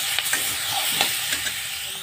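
Ingredients for chicken mushroom soup fry in a pan with a steady, close sizzle, and a few sharp scrapes and clinks of stirring break through it.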